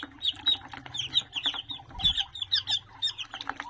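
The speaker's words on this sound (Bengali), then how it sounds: "হাঁসের বাচ্চাগুলো যখন চাচামচি করতেছে" Noisy peeping and chirping of a brood of ducklings, many high calls overlapping in quick irregular bursts, close and fairly loud, with a low thump partway through.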